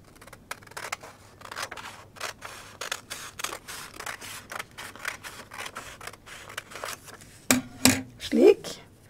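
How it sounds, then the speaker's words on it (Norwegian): Scissors snip through a picture printed on paper and folded in half, a run of crisp cuts, close and fairly loud, ending in a couple of sharper handling clacks. "Klipper opp."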